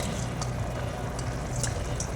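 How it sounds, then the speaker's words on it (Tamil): Rice tips into a pot of boiling water while camel biryani is cooked, a dense, steady bubbling and pouring wash that stays close and loud for a couple of seconds. "ரைஸ் போட்டாச்சு."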